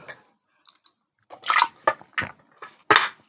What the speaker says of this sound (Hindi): मैं थोड़ा पानी पी लूँ